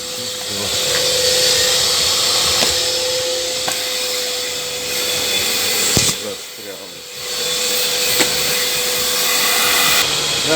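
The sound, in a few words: Makita VC3011L construction vacuum cleaner running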